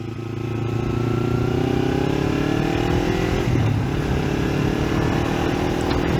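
Kawasaki Ninja 300 motorcycle riding through city traffic, its engine a steady close drone with rising and falling harmonic tones as it runs through the gears, continuous for the whole stretch with no talking.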